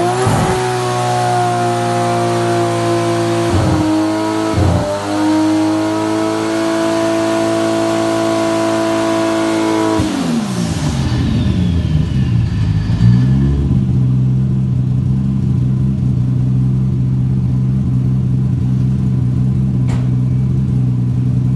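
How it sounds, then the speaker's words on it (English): Car doing a burnout inside a garage, its engine droning loud and steady at high revs with brief dips, then dropping to a lower rumbling idle as the pitch falls. "I did a Burnout in the garage like last week, so I'll put that in now for you, Ross"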